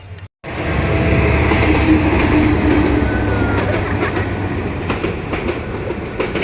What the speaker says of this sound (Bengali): এখন বাসায় যাচ্ছি তো আমাদের কাছে ট্রেন চলে আসছে